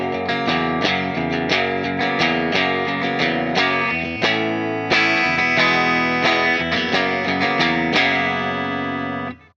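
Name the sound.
guitar riff from a song without tremolo effect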